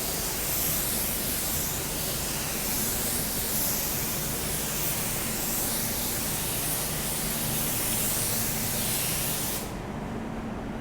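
Spray gun laying a coat of car paint, a steady broad hiss held loud and close without a break, cutting off abruptly near the end.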